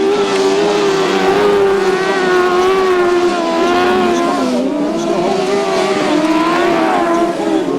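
Several 1000cc racing sidecar outfits roar continuously around a grasstrack at the 2007 Jim Coles Spectacular, their engines droning loud and steady with shifting pitch as they pass and hold revs through the bends.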